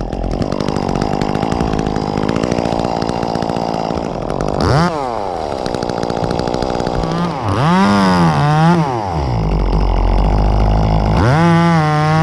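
Loud, close chainsaw running throughout while cutting tree limbs near a fence, its engine revving up and down in repeated rising and falling surges as the chain bites into the wood.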